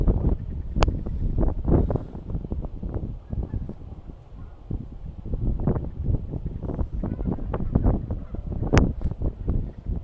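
Geese honking outdoors on a hot tropical day, a rough irregular stream of loud honks and squawks mixed with gusting wind buffeting the microphone.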